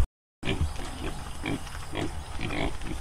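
Pigs grunt and snuffle close by, a continuous low rustling chorus of snorts after a brief silence.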